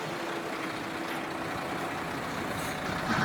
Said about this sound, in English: to see the arrival of a tarmac lorry. There it is, we will follow it in.